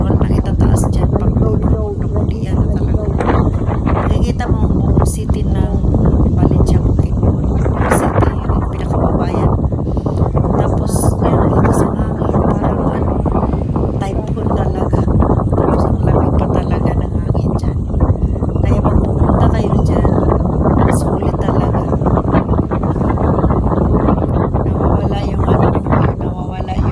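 Strong, cold wind buffets the microphone at a high city viewpoint, a loud, steady rush and rumble that runs the whole time with no letup.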